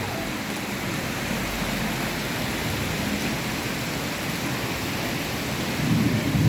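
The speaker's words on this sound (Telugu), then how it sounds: "ఇటువంటి ఉరుములు మెరుపుల మధ్య" Steady heavy rain washes over waterlogged Hyderabad streets during a thunderstorm, a dense, even hiss with a low rumble swelling near the end.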